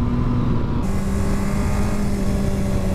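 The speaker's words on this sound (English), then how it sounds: "that car was coming out around that cyclist in front of the bend" A car passing a motorcycle on a country road near a bend, heard as a steady, fairly loud engine and road roar with wind noise, the motor pitch shifting partway through as it goes by, with no talk.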